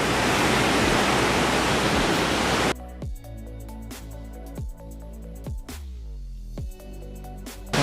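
A waterfall in Sri Lanka roars as a loud, steady rush of water, then cuts abruptly to quieter surroundings with scattered knocks and tones.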